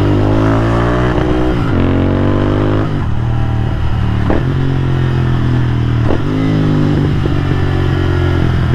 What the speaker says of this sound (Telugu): సండే ఈవినింగ్ ఫుల్ ట్రాఫిక్ ఉంది ఇక్కడ అసలు.